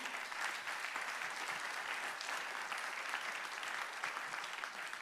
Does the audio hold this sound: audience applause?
yes